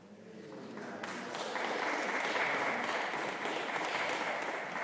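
Steady applause from an audience at a poetry reading, a dense wash of clapping that swells slightly and holds at a fairly loud level throughout.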